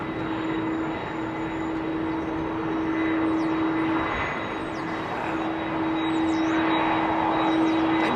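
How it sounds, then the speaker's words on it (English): Boeing 747 freighter, a former KLM Combi converted to cargo, with GE CF6 jet engines at Heathrow, giving a steady loud engine roar with a sustained droning hum and high whine that swells slightly toward the end. "Oh, listen to these engines, man. Sound like CFs. I think they are CF6s."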